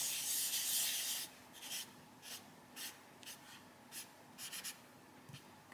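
Gel glitter pen colouring on paper in an adult colouring book, a soft close scratchy rub at the start followed by short, faint, irregular strokes.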